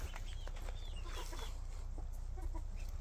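Hens clucking softly at a distance over a constant low hum, with scattered short calls and no talking.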